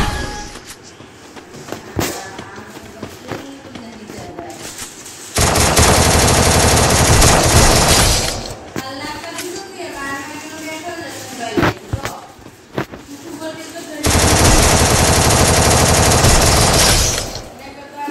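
Rapid automatic gunfire from a shooting video game, heard in two long, loud, sustained bursts with scattered single shots and game sounds between them.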